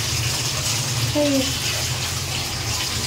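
Water pours into a hot pan with hot oil with a steady rushing hiss, loud and close, holding for the whole few seconds over a low background hum.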